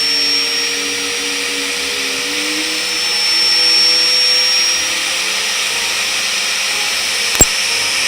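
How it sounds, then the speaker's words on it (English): A heat gun blows a steady, loud whooshing hum for several seconds while warming a handmade buzzbait lure, with no talking and one sharp click near the end. "I'm gonna be putting it over the heat gun for about 20-30 seconds"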